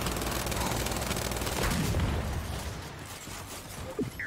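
Rifle fire in the Gears 5 video game: rapid automatic bursts, loud and dense for about two seconds, then thinning to scattered shots and a single closing pop.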